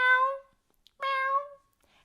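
A woman imitates a house cat's meow with two drawn-out, clear meows separated by a short pause, close and loud with no other sound.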